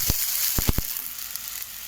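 Water hitting a hot kadai where sweets have just been fried gives a steady, close hiss, broken by a few sharp pops and spatters near the start.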